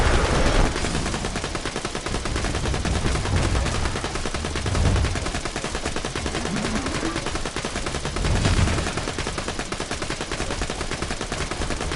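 Rapid, dense bursts of magic missile spell fire in the video game Tiny Tina's Assault on Dragon Keep, a loud crackling barrage that keeps up for the whole stretch with a few swells.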